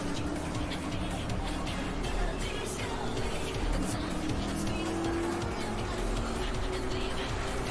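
Stock race cars circle the Martinsville track in rFactor, engines droning loudly together with bursts of tire squeal over a continuous roar.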